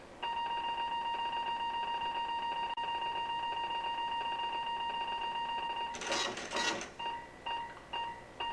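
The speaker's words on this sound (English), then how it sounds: "Then an alarm system will be sounded" A steady electronic tone holds for several seconds, then gives way to rapid mechanical clatter and a series of short repeating beeps.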